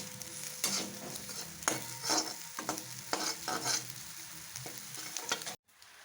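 Chicken frying in a pan while being stirred, with a steady close sizzle broken by repeated scraping strokes about once a second, then a sudden cutoff near the end.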